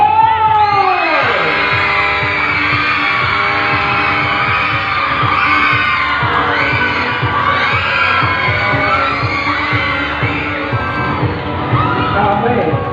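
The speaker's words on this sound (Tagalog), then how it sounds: "Ang ingay na rin ng mga kaklase mo" A noisy crowd of students cheers, whoops and shouts continuously for a classmate at a school pageant, with loud overlapping voices and a rhythmic thumping underneath.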